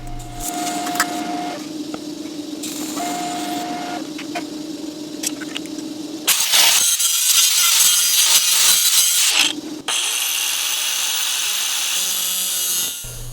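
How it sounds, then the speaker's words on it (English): A power tool saws through a steering rack mount to trim off extra length, a harsh loud cutting roar in two long bursts after a quieter stretch of motor hum and rattling, no voices. "I trimmed off the extra length and then went ahead and rounded over the corners."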